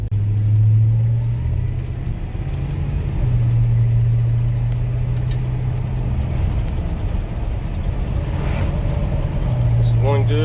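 1986 Chevy Silverado truck with a 305 V8 engine running, a steady low rumbling idle heard close up, with a voice talking over it for much of the time.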